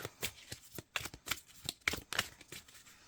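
Tarot cards being shuffled and drawn, a quiet run of short crisp riffling bursts in an irregular rhythm, close and alone with no talk.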